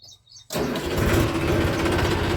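A Massey tractor engine cranks and catches after a short quiet gap, then settles into a loud, steady diesel rumble close by as it pulls away, with no voices.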